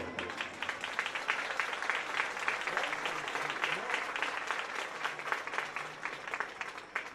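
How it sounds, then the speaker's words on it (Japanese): Stadium crowd applauding at a women's football league cup match, a steady wash of distant clapping and crowd noise, moderately faint and continuous, with a commentator's voice faintly underneath. "場内からは拍手が送られています。"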